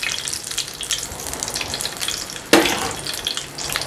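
A chicken cheese sandwich sizzles in a pan, a steady close crackle of frying with a sudden louder hiss partway through.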